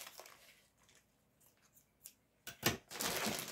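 Scissors cutting a small piece off yellow ribbon, a few faint light rustles and snips followed by a louder crisp cut and brief handling noise, close and quiet.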